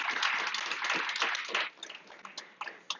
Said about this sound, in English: why don't we begin with a round of applause for our panel.